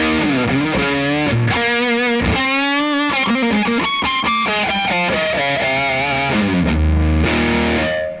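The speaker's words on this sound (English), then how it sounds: "It's basically like 2 distortion pedals in one." Electric guitar played through a Fulltone PlimSoul distortion pedal turned fully up gives thick, hot saturated notes and bends, loud and close, with chords and single-note lines ringing continuously.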